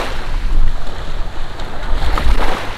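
Strong wind buffets the microphone while waves slap and splash nearby while windsurfing at Palm Island beach, Dubai, with a louder surge of water toward the end.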